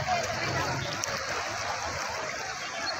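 Steady, loud floodwater rushes along a street in Chennai, a continuous broadband roar and splashing with no break across the few seconds.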